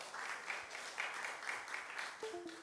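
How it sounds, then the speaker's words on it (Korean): An audience applauds at the close of an academic seminar, a steady, moderately distant wash of clapping that lasts a few seconds and tapers toward the end. "자축 아니면 서로 격려하는 측면에서 큰 박수 부탁드리겠습니다."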